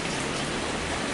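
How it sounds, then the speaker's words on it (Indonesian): Heavy rain comes down suddenly, a steady dense hiss with no pauses and no voices, fairly loud throughout. "Ini kondisinya tiba-tiba turun hujan yang sangat deras ya teman-teman"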